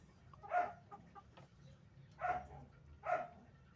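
Three short clucking calls from a rooster, spaced apart, against a quiet low rumble of background noise.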